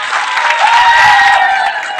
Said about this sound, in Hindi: इन सभी को एक जोरदार ताली बजा